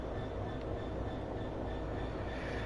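A Class 150 diesel train runs in Train Sim World 5 on the West Coast Main Line, a steady, fairly quiet rumble of engine and rolling wheels with no break.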